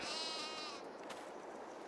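An in-game sheep in the Farming Simulator 22 video game lets out a single faint, wavering bleat at the start, then fades into quiet background ambience, with no talking.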